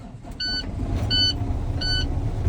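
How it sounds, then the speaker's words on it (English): A manual truck with the clutch in starts and settles into a low, steady idle, while a repeating electronic beep chimes at regular intervals above it. "Turn the truck on."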